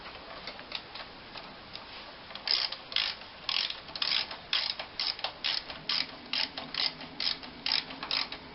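A ratchet wrench tightens 12mm carburettor fasteners on a TTR250 motorcycle, giving a run of close, crisp clicking bursts in steady short strokes that grow louder midway, with no talking.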